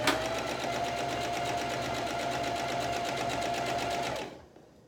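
Sewing machine stitching a makeup bag with batting, a fast steady close-up chatter running continuously for about four seconds before stopping abruptly.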